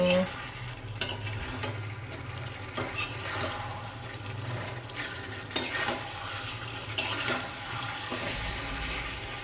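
Masala paste fries in hot oil in a pan for a chicken curry, with a loud, continuous sizzle and repeated stirring scrapes, plus bursts of watery bubbling throughout.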